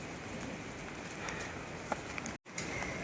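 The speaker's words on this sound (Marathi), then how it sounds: "पाऊस पडतोय" Rain falling at an old Shri Ram temple on the trek route to Kedarnath, a dense, steady patter on surfaces with a few louder drips, broken by a brief cut near the end.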